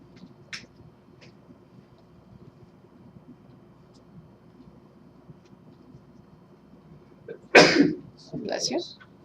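A single loud sneeze bursts out near the end of a quiet classroom math review, followed by a softer second burst of breath, against a faint room hum.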